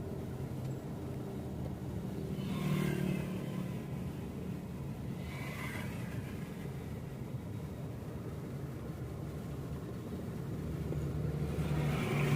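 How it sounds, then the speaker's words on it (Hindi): A car with a suspected bad variable valve timing solenoid idles after being started. The engine gives a steady, low, broadband rumble at moderate distance, with slight swells and no speech. "हमारी गाड़ी हो गई है स्टार्ट।"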